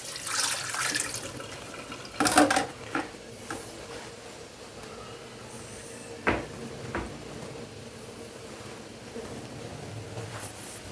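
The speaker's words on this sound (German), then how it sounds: "So, Hände waschen." Tap water runs into a kitchen sink while hands are washed during homemade Käsespätzle preparation, a steady faint stream broken by a few louder clatters and knocks from the sink and counter, with no talking.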